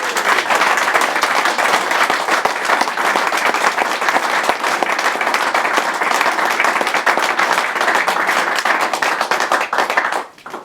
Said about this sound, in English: one last big coconuts round of applause